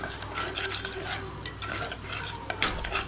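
Thick masala paste for a simple chicken gravy is stirred in a pan, the spoon scraping steadily as the oil starts to separate, with low continuous sizzling close by and no one speaking.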